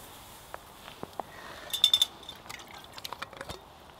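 Leftover billy water is poured around the edge of a campfire at a winter camp in cold rain, giving scattered splashes and trickles with a brief busier burst midway, fairly close and quiet, with no talk.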